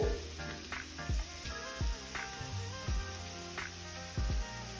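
Butter and ghee frying in a pan for soya rice give a soft continuous sizzle and hiss, with a few low dull knocks recurring about once a second, close and fairly quiet.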